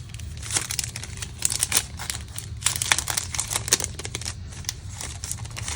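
Paper crinkles and creases in short irregular bursts as sheets are folded and stacked for Stampin' Up! card making, close and fairly quiet, with no talk.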